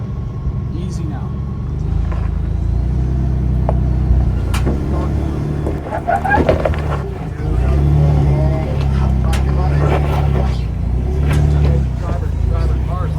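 An off-road vehicle throttles up a rock climb in Moab, its engine rumbling close and rising in surges, with people talking over it.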